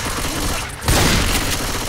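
Gunfire in the video game Left 4 Dead 2, a dense rattling volley that swells loudly midway and continues to the end.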